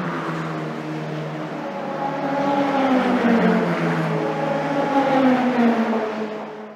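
A BMW FINA Bastos E30 M3 race car, driven by Christian Danner, Jean-Michel Martin and Steve Soper in a hot-weather endurance race, holds a loud, steady engine note that rises and falls in pitch as it accelerates and shifts, with no talk.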